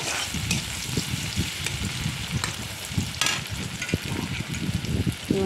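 Chopped onion fries lightly in oil with whole cumin seeds, a continuous crackling sizzle broken by frequent spatula scrapes and taps against the pan.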